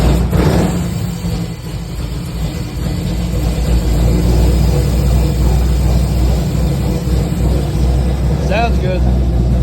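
A 383 stroker V8 in a 1968 Camaro idles through Flowmaster exhaust, a loud, steady, low rumble held close for the whole stretch, with a person talking over it.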